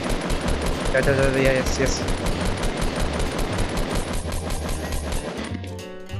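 Automatic gunfire in Fortnite Battle Royale, a fast steady stream of shots continuing for several seconds at moderate loudness, with people talking over it.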